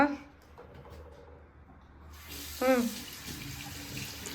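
A water tap runs into a sink during washing, making a steady hiss of flowing water with brief clunks. People talk over it close by.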